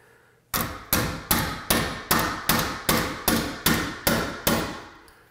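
Ten sharp hammer blows land in a steady, even rhythm, each one loud and close with a short ringing decay, no voices.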